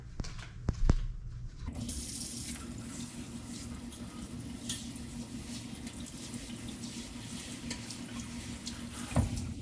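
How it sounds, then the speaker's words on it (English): Cold tap water runs steadily into a sink over a wedding veil, a continuous close hiss and splash after a few brief clunks at the start. "take the veil and run it under cold water first"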